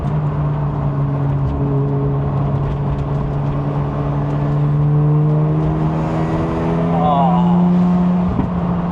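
A JDM sports car engine revs and accelerates from inside the cabin, a loud droning note climbing steadily in pitch, with a man's brief exclamation over it.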